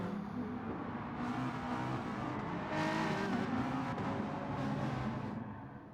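BMW race car in an endurance sim racing championship, its engine droning loud and steady with faint tire scrub as the car holds speed, the roar swelling slightly midway before easing off at the end.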